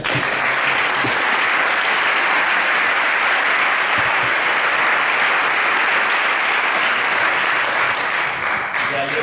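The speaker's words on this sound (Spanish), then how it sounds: "Así que un aplauso para él." An audience at a cycling talk in Calpe claps for a local professional cyclist, a loud, sustained wash of many hands that stays steady for the whole stretch.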